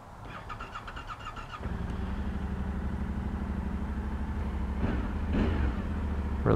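Yamaha Tenere 700 motorcycle engine idling with a ticking patter, then revving up sharply and holding a loud, rough drone with quick throttle blips, close and alone.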